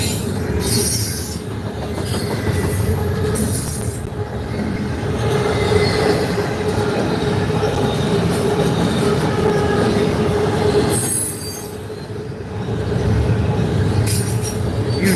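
A northbound CSX intermodal freight train rolls past in Millbury, Ohio at night, loud and close, its wheels rumbling and squealing steadily for the whole stretch with no voices.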